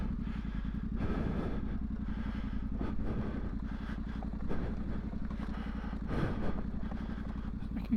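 A Yamaha Tenere motorcycle engine pulls in a steady low throbbing drone with clattering mechanical texture, heard close and continuous while riding outdoors in Wales; no speech.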